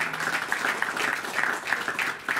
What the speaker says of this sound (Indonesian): tolong berikan tepukan gemuruh kepada rakan-rakan media